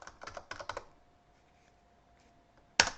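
A command being typed on a computer keyboard during a network lab on ARP analysis: a quick run of close, crisp key clicks, a quiet pause, then one sharp, louder keystroke like a press of enter.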